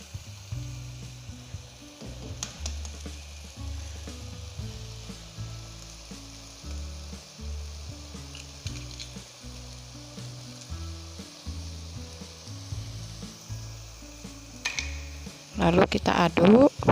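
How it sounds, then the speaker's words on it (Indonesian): Egg being stir-fried with white mustard greens in a pan, a low steady sizzle under a voice talking throughout, with brief spoon clinks and a louder burst of frying near the end. "Lalu kita aduk sampai merata ya telur ayamnya ke sayurnya"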